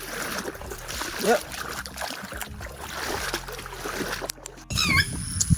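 Feet wade through water in a flooded farm field, giving loose splashing and sloshing under outdoor ambience, while someone talks briefly in the middle.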